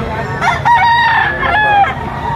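A bulik-colored gamecock rooster crows loudly and close by, one long harmonic cock-a-doodle-doo rising and holding, then trailing off against a low background hum.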